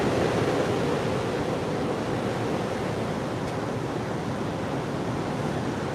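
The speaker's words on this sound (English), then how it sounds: "There's some really big waves today." Large ocean waves crash onto the shore in a steady, roaring wash of surf, loud and continuous throughout with a windy rush over it and no talking.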